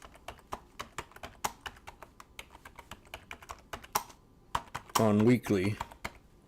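Computer keyboard keys clatter in a quick, uneven run of soft clicks, and a voice speaks briefly near the end.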